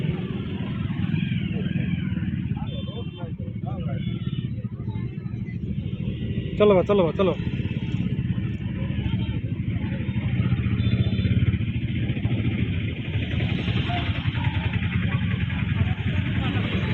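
A traffic jam of motorbikes and cars during a Shivratri festival at Minajhola, engines idling and rumbling close by with occasional clatter, under near-constant chatter and shouting from people in the crowd.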